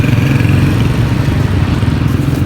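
A motorcycle engine runs steadily while a passenger rides along, making a loud, continuous rumbling drone with road and wind noise. There is no speech.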